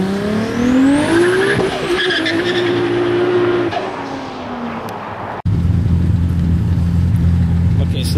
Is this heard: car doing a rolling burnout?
yes